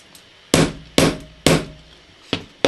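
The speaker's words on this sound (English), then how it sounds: "I saw one part of my rivet, one side over here was a little high, so I hit that" A small hammer strikes a wire rivet on a jewelry piece, five sharp metallic taps in an uneven rhythm, close and loud with short ringing decays and quiet gaps between.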